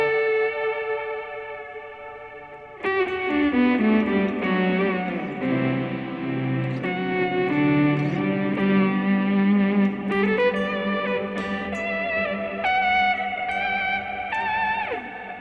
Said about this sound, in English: And then I'm going to put a big reverb on that.